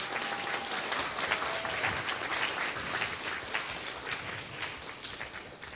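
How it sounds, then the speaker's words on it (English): A full room of people applauding at a Buddhist Lamrim class, a continuous dense round of clapping that holds at an even level throughout. "Let's give a round of applause for that."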